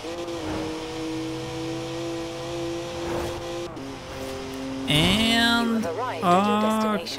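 A BMW Z4 racing in Forza Horizon 4 holds a steady engine drone, then revs up sharply through gear changes with rising tire squeal near the end, loud and close, with brief talk underneath.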